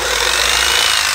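A Japanese domestic-market 100V electric saw runs continuously with a loud, steady high-pitched whine and dense buzzing noise, heard alone at close range with no pauses.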